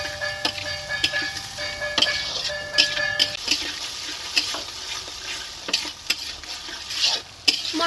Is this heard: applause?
no